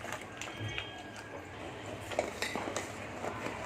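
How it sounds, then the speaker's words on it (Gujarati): A metal ladle scrapes and clinks lightly against a pot of boiling custard in slow, irregular stirring strokes, with occasional soft taps and a low background hum. "આ રીતના ચમચા વડે આપણે હલાવતું રહેવાનું છે"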